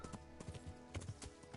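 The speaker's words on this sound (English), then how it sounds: "I'm so happy I've got a horse." A horse's hooves clip-clop in an uneven trot in the medieval video game Kingdom Come: Deliverance, a few close, soft thuds over a brief stretch without talk.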